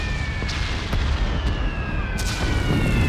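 Aerial bombardment and naval shell explosions pounding the port of Toulon during the WWII Dragoon landings, a continuous heavy rumble broken by several sharp blasts, loud and close with no voices.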